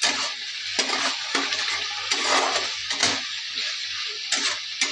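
Potatoes stir-fried with spices and onion paste in a pan, loud close sizzling with repeated rhythmic scrapes of a spatula against the pan, roughly a stroke every half second, no talk.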